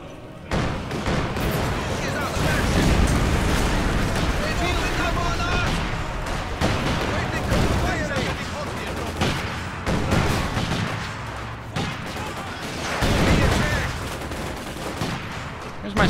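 Infantry firefight in Company of Heroes 2, with dense bursts of rifle and machine-gun fire and booming impacts rolling on continuously, someone talking over the din at points.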